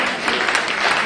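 Audience at a city community meeting applauding, a steady dense clapping that fills the short moment without any pause.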